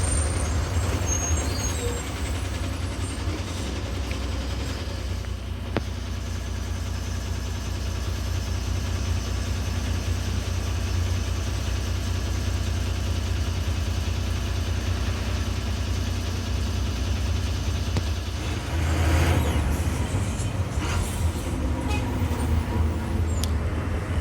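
Long-distance omni buses idle in a night-time traffic jam on the road near Kodai Road. A deep, continuous engine rumble fills the scene, and a loud air-brake hiss bursts out near the end. Nobody speaks.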